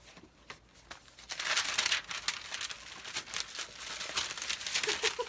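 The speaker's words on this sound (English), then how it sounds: "I have a really good paper noise" Paper crinkles and crumples close to the mic, starting with a few sparse crackles and then building into a busy, continuous rustle with sharp snaps.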